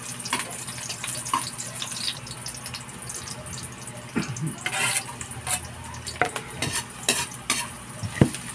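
Beef for kaldereta sautés in a frying pan, a steady close sizzle under repeated scraping and clinking of a utensil stirring the meat, with occasional louder knocks against the pan.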